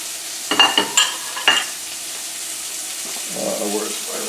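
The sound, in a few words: summer fluke fish frying in a pan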